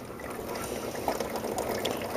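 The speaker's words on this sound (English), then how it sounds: "just carry a very shallow stream of water" A very shallow stream of water trickles through rain-gutter irrigation channels in a mini greenhouse, making a steady, close, soft wash with faint bubbling and no talk.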